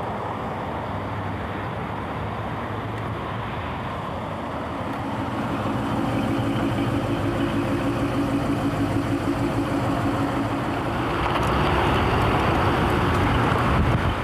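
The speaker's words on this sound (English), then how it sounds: "Afterwards, we followed them in their 1953 Oldsmobile." A 1953 Oldsmobile four-door car drives along with a steady engine hum and road rumble, growing louder in stages as it goes, with no talking.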